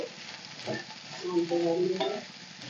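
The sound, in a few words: potato pieces frying in oil while being stirred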